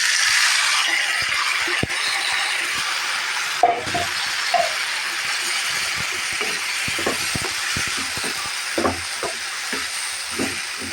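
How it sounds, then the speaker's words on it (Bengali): Chopped cabbage hits browned spice paste in a hot pan and fries with a steady sizzling hiss, broken by scattered scrapes and clunks of stirring, with no voices. "এখন আমি সবজিটা ঢেলে দিলাম"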